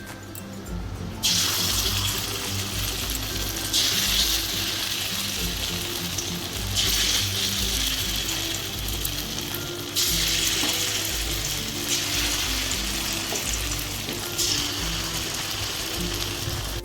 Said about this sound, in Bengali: তেলটা গরম হয়ে গিয়েছে। এখন বড়াগুলো দিয়ে দিব।